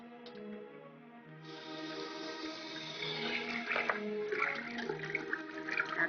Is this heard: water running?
yes